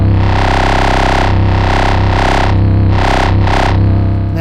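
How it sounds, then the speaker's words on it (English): A nasty, heavily distorted wavetable bass from an ASM Hydrasynth, pushed through pre-effects distortion: a loud, dense, buzzing sustained tone whose filter opens and closes in several swelling sweeps, with no voice over it. "You can turn it down and get like a nasty bass. Especially if you distort it."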